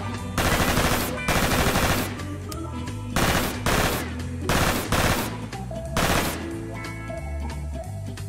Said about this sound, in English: you can fire up to four projectiles at once in a burst fashion by adjusting the valve near the trigger.